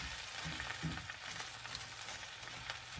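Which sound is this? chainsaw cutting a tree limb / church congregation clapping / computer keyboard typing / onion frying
onion frying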